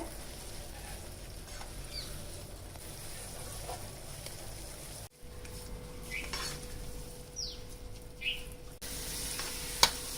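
Coconut stirred slowly into thickening sugar syrup in a pan on low heat gives soft scraping and faint clinks of a spoon against the metal, a steady quiet texture with occasional light taps and no voices.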